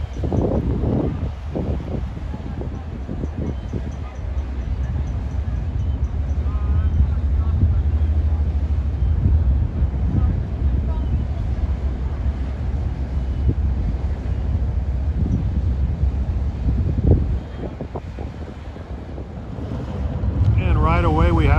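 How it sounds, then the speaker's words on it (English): The ferry boat Manhasset runs toward Shelter Island, a low steady engine and water rush under heavy wind noise buffeting the microphone at the dock. "Right away we have the second ferry that's operating right now, heading for Shelter Island."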